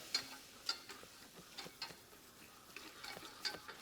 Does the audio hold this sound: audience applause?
no